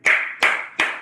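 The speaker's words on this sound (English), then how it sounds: "I'm on Holy Ghost clap number 2." Three sharp, evenly spaced hand claps ring out during a church sermon, each close and loud with a brief reverberant tail, no talking between them.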